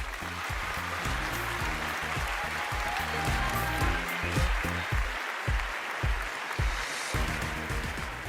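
Audience clapping at a talk event fills the room, a steady wash of many hands held at an even, moderately loud level with faint voices mixed in.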